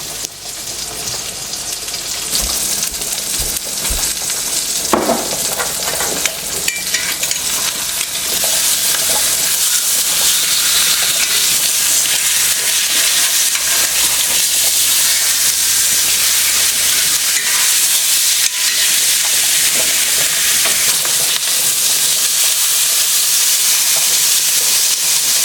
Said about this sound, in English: We're going to let our pork chops sear about 3 to 5 minutes per side.